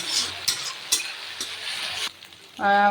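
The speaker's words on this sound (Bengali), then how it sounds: "আদা রসুনটা ভাজা ভাজা হয়ে গেছে, লঙ্কাটা" Ginger, garlic and chili fry in a pan with a steady sizzle, broken by a few sharp clinks of a spoon stirring against the pan, before a loud tonal hum cuts in at the end.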